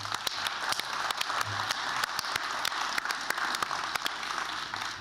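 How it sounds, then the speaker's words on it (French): Applause from the audience at a municipal New Year's address in Comines-Warneton, a dense steady patter of clapping from a sizeable crowd lasting several seconds without speech. "On peut l'applaudir."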